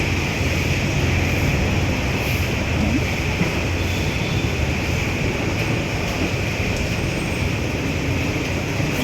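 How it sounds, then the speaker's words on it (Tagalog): Heavy rain pours during a typhoon, a dense, constant hiss with wind buffeting the microphone and a low rumbling wash underneath, loud and unbroken throughout. "Malakas pa rin po yung ulan, pero magdamag talaga siyang umuulan."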